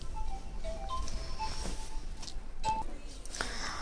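Short electronic telephone tones, like dialing beeps or a ringing signal, sound faintly in a home over a steady low background hum. Several brief tonal beeps come and go across the few seconds.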